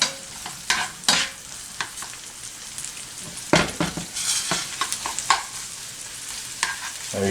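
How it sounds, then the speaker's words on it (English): Chopped onions and garlic sweat in oil in a pan with a steady low sizzle, broken by irregular scrapes and clinks of a utensil against the pan, close and fairly loud. "sweating the onions and the garlic just to let them infuse"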